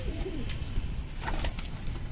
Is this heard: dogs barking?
no